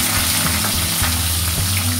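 Bitter gourd (karela) pieces frying steadily in a hot pan for a Bengali shukto, a continuous loud sizzle with constant crackle and no voices.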